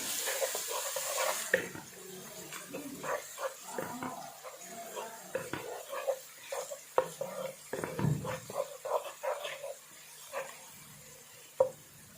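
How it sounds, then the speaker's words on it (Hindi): Spoon stirring garlic into golden fried onions in a pan, with irregular scraping and clinking strokes over a soft background hiss throughout, moderately quiet and close. "अब हम इसमें पहले लहसुन डाल देंगे। इसे मिक्स करेंगे अच्छी तरह।"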